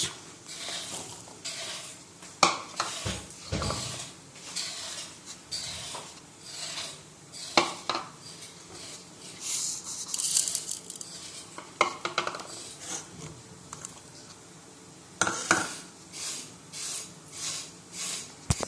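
Salt, black pepper and sugar stirred together in a bowl with a spoon for a red bean salad, giving repeated clinking and scraping strokes at close range, uneven in rhythm, with no one talking.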